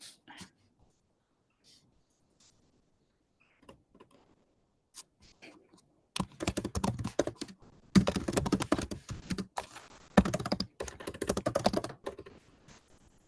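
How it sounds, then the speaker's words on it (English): Keys clatter on a computer keyboard during an online talk session, a few scattered taps at first, then bursts of fast, close typing in uneven runs with short pauses. "I will mute myself in order not to let everyone hear my keyboard"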